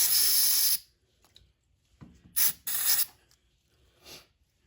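Carburetor cleaner is sprayed onto the carb of a Troy-Bilt 2410 snow blower in short, close, loud hissing bursts, one long spray followed by several shorter ones separated by quiet gaps.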